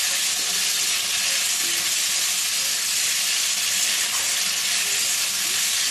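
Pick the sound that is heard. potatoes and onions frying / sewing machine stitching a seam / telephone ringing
potatoes and onions frying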